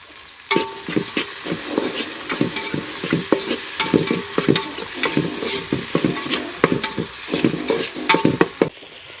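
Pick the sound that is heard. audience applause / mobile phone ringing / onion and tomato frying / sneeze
onion and tomato frying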